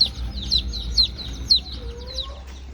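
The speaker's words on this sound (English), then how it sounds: "Okay, so these are Polish chicks." Polish chicks, the crested puffball breed, peeping in a homestead brooder: a run of rapid, high repeated cheeps close to the mic, about five distinct bursts over a low background hum.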